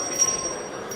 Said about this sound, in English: Can you stop with the bell?